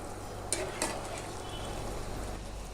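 Chicken curry masala bubbling in a pan with a soft steady sizzle, punctuated by two sharp scrapes or clinks of a spoon stirring against the metal.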